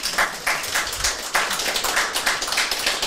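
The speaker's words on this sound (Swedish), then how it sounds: "En varm applåd för våra inledare." A small audience at a legal panel discussion gives brief, moderately loud applause, a few seconds of quick, uneven clapping close by.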